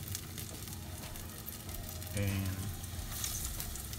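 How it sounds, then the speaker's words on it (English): Hot oil about half an inch deep sizzles and crackles steadily as vegetable lentil patties shallow fry in a pan, a constant close hiss with a brief louder burst partway through. "So this is called shallow frying."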